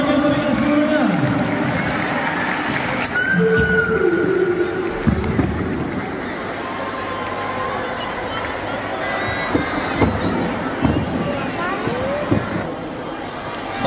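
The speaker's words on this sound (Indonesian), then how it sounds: "Tepuk tangan yang meriah semuanya." Students at an Islamic boarding school's arts and sports event cheer and clap as a crowd, a loud, continuous wash of noisy voices and scattered claps with sharp shouts, with voices throughout.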